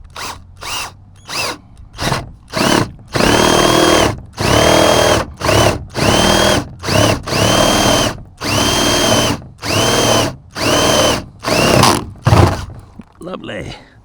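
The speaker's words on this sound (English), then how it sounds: "now we're going to drill as much out with this 24" A power drill fitted with a 24 bit bores into a bicycle camper trailer in a series of whining bursts, short at first and then longer sustained runs, loud and close, with brief pauses between.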